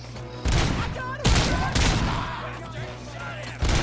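Gunfire in the Robocop Rogue City video game comes as several loud bursts of shots spread across the moment, with echoing reports in between and someone talking over the action.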